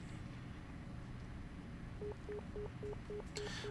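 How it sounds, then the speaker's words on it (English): An unanswered phone rings in the visual novel game Nekopara: a quiet, evenly spaced series of short electronic ring pulses starts midway and repeats over a faint background hum. "Why is no one picking up the phone?"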